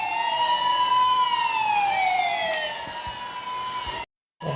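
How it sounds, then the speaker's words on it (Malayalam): A yellow police car's siren in the video game Indian Bike Driving 3D wails loudly in sweeping rising and falling tones, cutting off abruptly near the end. "ഇതിന് ഭയങ്കര സൈറൻ കേസ്, ഭയങ്കര ശബ്ദം"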